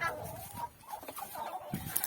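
Turkeys on a village farm give repeated clucking, gobbling calls, moderately close and fairly steady, with no talk over them.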